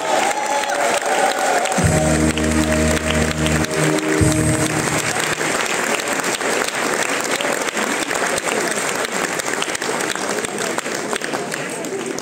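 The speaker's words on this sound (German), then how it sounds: "Riesen Applaus nochmal für euch." Sustained applause from a crowd at a carnival guild ball after a children's guard dance, dense and steady throughout, with a host briefly speaking over it near the start.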